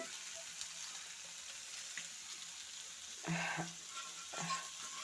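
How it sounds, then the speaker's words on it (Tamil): Fish fries in a pan, a quiet continuous sizzle interrupted by two short bursts of louder crackling or stirring. "அடுத்தது ஃபிஷ் ஃப்ரை பண்ணிகிட்ருக்கேன்"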